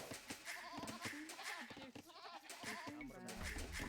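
Sheep bleating in the Age of Empires II video game, a run of quick wavering bleats stacked close together over a busy game soundscape with rhythmic clicks, fairly faint overall.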